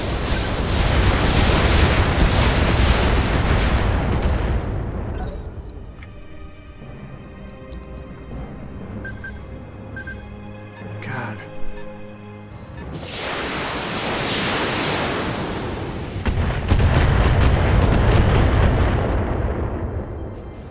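Artillery fire and explosions in the Roguepoint video game roar as loud broadband blasts at the start and end. A quieter stretch in between holds ringing, tonal game sounds and a few sharp transients.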